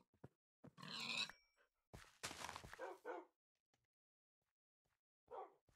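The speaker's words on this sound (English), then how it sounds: "Oh my gosh, there's so many dogs." Several dogs in a video game barking and yipping in short separate bursts, a couple of close loud barks followed by scattered quieter yelps and a final brief bark after a pause.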